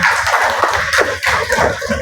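A classroom of pupils claps hands in sharp, ragged bursts with a loose rhythm, close and fairly loud, while a teacher leads them, and no speech stands out over the claps.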